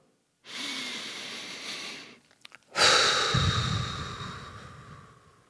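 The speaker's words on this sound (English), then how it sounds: "Share a breath with me, if you will." A person draws in one long deep breath and then lets it out in a longer, forceful exhale. Both are close and loud, with a short pause between them.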